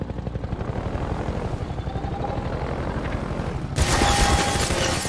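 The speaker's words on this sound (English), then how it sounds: "the helicopter will shoot at you." Attack helicopter in Half-Life 2 thrums steadily with rapid rotor chop, loud and continuous, swelling louder in the last second.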